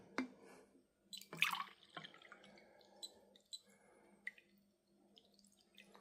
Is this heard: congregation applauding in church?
no